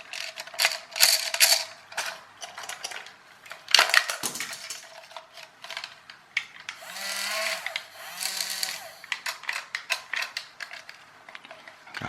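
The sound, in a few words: toy gearbox grinding with missing gear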